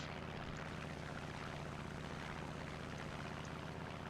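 A steady, rough propeller engine drone from a damaged Black Widow aircraft in War Thunder runs continuously at moderate level, with a low uneven rumble of a misfiring engine.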